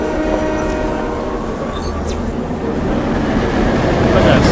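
A train rumbles through a station in Hitman Absolution, a loud continuous rolling roar with clanks, while a station announcement voice speaks over it.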